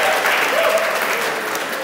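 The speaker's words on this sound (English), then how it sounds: "we can give her a round of applause" A short burst of steady audience applause greeting a guest, dense and even, tapering slightly at the end.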